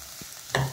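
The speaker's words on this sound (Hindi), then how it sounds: "सब्जियों के हल्का पकने तक हम बार बार इसे हिला हिला के थोड़ी देर तक पका लेते हैं।" Boiled corn kernels and vegetables frying in oil in a pan, with a soft stir early on and a short burst of sizzling and scraping near the end, close and fairly quiet.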